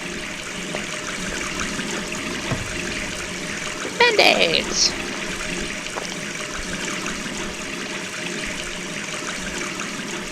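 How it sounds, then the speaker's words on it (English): Steady running tap water in the video game Gone Home, a continuous broadband hiss throughout with a brief louder clatter in the middle, while a person talks over it. "Gonna leave the water running too."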